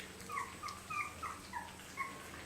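Four-week-old Aussiedoodle puppies whimper and yip in a string of short, high, thin cries repeated every half second or so, close by and fairly soft, with no talking.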